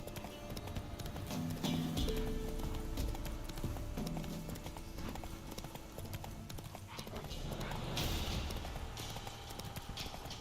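Horse hooves gallop in a steady clip-clop rhythm through The Witcher 3 game world, continuous and fairly close across the whole stretch, with a brief whinny-like accent and light ambient game sound beneath.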